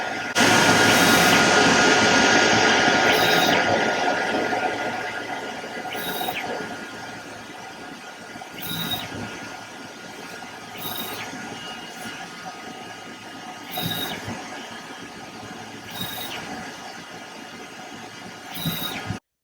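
An xTool DTF apparel printer prints a transfer with a loud mechanical whir at first, then settles into a repeating cycle of carriage passes, each pass marked by a brief squealing tone and a swell of motor noise.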